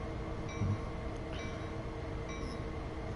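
A freight train in the Train Sim 2 game rolls slowly in first gear, giving a steady low rumble of wheels and cars with faint high squeals, with no one talking.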